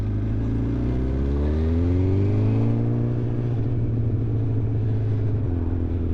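A BMW S1000XR motorcycle with a decat exhaust revs under way, its engine note climbing smoothly, holding a steady, loud rumbling drone, then easing off, with no speech.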